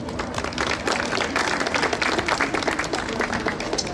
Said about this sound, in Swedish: En varm applåd till er.